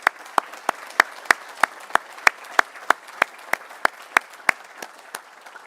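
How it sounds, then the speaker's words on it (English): A small audience at a college architecture spring awards and graduation celebration gives a sparse round of applause for visiting jurors, with distinct individual claps in a steady, evenly spaced rhythm. "So can we have a little round of applause for them?"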